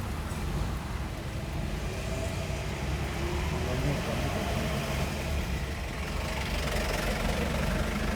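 A car engine runs with a steady low rumble while the car rolls slowly backward down a slope, held without switching off; a faint voice is in the background.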